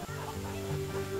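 Free-ranging hens cluck on a farm, a short close burst of soft, throaty clucking over a steady background hum.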